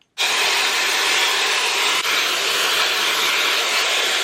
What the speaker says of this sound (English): we're making it into a very compact, very, very powerful little hair dryer